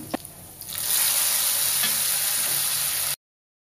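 Dal tipped into hot fried spices for radish dal erupts into a loud, continuous hissing sizzle that swells within a second and holds steady until it stops abruptly.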